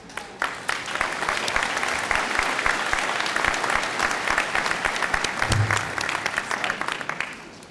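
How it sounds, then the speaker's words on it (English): An audience at a high school senior awards ceremony applauds for scholarship recipients, steady crisp clapping from many hands filling the room for several seconds before tapering off. "Definitely worth a double clap."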